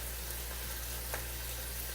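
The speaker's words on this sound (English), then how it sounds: "now they're starting to sizzle" A steady, close sizzle of hickory-seasoned salmon frying in a hot pan, a constant crackling hiss with a faint low hum underneath.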